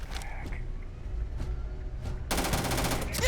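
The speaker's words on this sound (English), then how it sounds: "Heavy fire over here!" Gunfire in the video game Starfield: a few short, sharp shots spaced apart, then a dense, loud burst of rapid automatic fire near the end.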